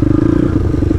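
A YCF pit bike engine revs up close, a loud, fast, throbbing putter over a single short burst.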